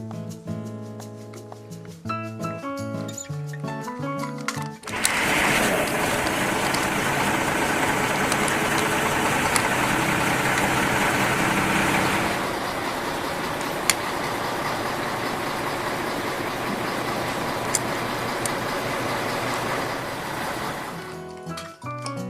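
A truck engine idles in a steady low rumble, loud and continuous for most of the stretch, bracketed by brief music at the start and end.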